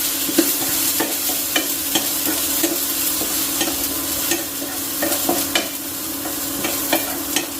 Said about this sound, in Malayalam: ഇത് നമുക്ക് 1 മിനിറ്റ് ഒന്ന് വറുക്കാം